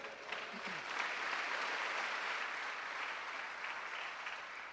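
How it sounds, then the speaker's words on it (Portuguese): A church congregation applauds in steady, sustained clapping that fills the space at moderate volume, with no talk over it. "Você pode dizer glória a Deus e aplaudir a Jesus?"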